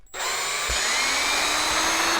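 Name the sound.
power drill removing screws from Arrma RC car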